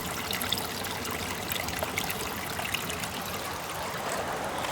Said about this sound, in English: The water just flows down, so cool.